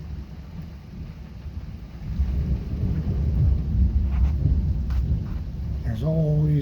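Nearby thunder from close lightning strikes during a storm rolls in as a deep, swelling rumble over rain and wind noise. A voice begins talking right at the end.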